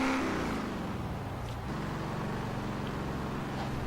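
A 2000 Ford Mustang SN95 Cobra R with a manual gearbox revving hard in Forza Horizon 3, its engine a loud, steady drone that holds near full throttle for the whole stretch, with no voices.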